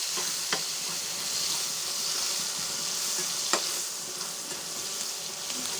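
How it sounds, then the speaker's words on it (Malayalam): Curry leaves and sliced onions fry in hot oil for a prawn roast, a steady close sizzle with a couple of sharp pops, no talking. "ഇതാ പൊരിച്ച എണ്ണയ്ക്കന്നെ കറിവേപ്പിൻ്റെ ഇട്ടു സവാള ഇട്ടു നല്ല വേവട്ടെ"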